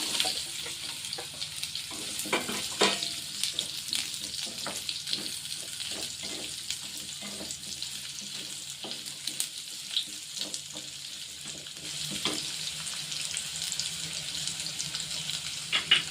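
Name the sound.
pumpkin and carrot frying in hot oil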